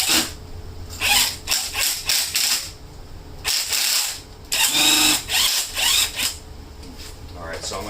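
A ratchet wrench works loose an 18 mm nut during Audi off-road lift fabrication, giving loud, close bursts of rapid clicking separated by short pauses.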